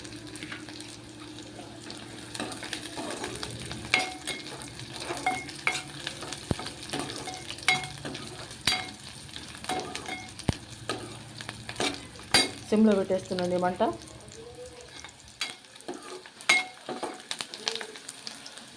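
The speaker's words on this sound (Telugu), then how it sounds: "ఇవి బాగా ఎర్రగా అయిన దాకా వేపుకోవాలండి" Onions frying in a pan for a Telugu-style kaju mushroom masala, with steady sizzling and stirring scrapes throughout and a brief voice speaking over the cooking.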